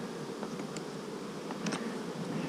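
Honey bees buzzing steadily in the woods, a dense continuous hum of many insects with no voices.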